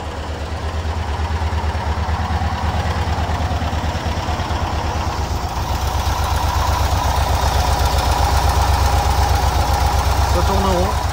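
A 1976 VW T2b Westfalia camper van engine runs at a steady idle with no foot on the throttle, a loud close rhythmic chugging that holds even throughout, with someone talking over it.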